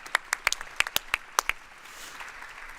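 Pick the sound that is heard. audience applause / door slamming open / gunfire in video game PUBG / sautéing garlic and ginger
audience applause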